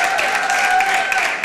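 A TV studio audience on the Serbian music program Pesmom za dušu claps loudly and continuously. A bright sustained tone runs over the brief burst of applause.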